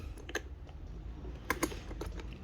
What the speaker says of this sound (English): you just got to get a little flathead in there, unscrew it, and these will pop right off